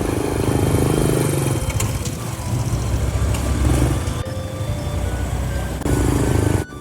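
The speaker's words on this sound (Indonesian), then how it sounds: "dari kejauhan terdengar suara deru motor tua milik Surya." An old, dusty moped-style motorcycle engine drones loudly and steadily throughout, with a rough, continuous roar and small shifts in pitch.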